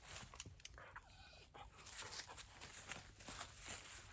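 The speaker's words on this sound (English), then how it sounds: "I think he's like a hunting dog or something" A hunting dog fitted with tracking devices whimpers and pants close by on a mountain trail, with patter of movement and soft rustling throughout.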